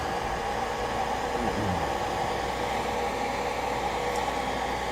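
A hair dryer blows a steady, close, hissing rush of air for the whole stretch, drying a watercolor koi painting with no voices over it.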